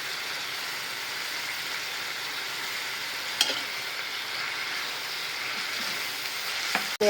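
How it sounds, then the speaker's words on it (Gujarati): Ginger, garlic and chili paste sautéing in a pan, giving a steady, close broadband sizzle that holds evenly throughout, with a brief clack of a utensil midway and another near the end. "હવે સાંતળવા દઈશું. આદુ લસણ અને મરચાંની પેસ્ટ."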